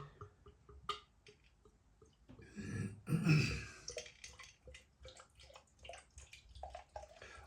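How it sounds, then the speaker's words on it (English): Aktien Landbier Fränkisch Dunkel, a dark German beer, is poured from the bottle into a glass in one brief, gurgling splash mid-clip, framed by quiet clinks and handling noises. "that's me pouring the beer"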